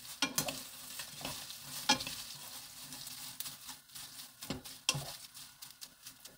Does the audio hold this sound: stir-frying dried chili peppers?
yes